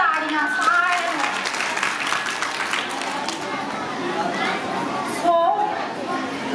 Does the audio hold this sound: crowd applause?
yes